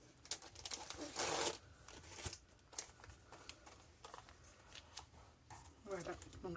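Packaging being stripped from craft cutting dies, close-up crinkling and tearing of plastic wrap with a loud rustling burst early on and scattered crackles after, with a voice talking throughout.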